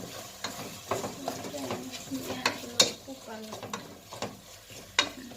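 Masala with salt for mushroom biryani is stirred and fried in a pan, with repeated close scraping strokes of the spoon over a low, steady sizzle.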